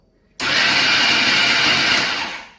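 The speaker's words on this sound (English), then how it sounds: "So you can see with this blender" A kitchen blender switches on abruptly and runs as a loud, steady broadband whir for about two seconds, then begins to fade; no talking over it.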